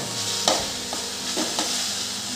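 Grated raw mango sautéed in oil for a tangy mango sabzi, a steady close sizzle with a few sharp stirring scrapes of the spoon against the pan.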